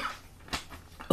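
A few short coughs from a person during a casual English and Spanish language lesson, sharp bursts spaced apart with quiet gaps between them, close and fairly loud.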